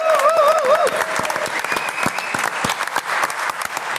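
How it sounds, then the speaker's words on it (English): A studio audience claps loudly and continuously, dense applause with a few whoops rising over it, filling the whole stretch. "Can we get a round of applause for Marc Albrighton, everybody?"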